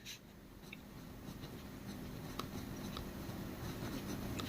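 Pen writing math on paper, a faint continuous scratching of strokes with small taps, close and quiet, with no voice.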